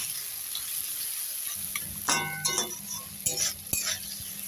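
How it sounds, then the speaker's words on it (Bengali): Onion, ginger-garlic-green chili paste and tomato masala with salt fry in a pan for Bengali Kajol Gouri fish curry, a steady sizzle with a run of close spoon scrapes and metallic clinks in the second half. "এবার মশলাটা একটু কষিয়ে নেব"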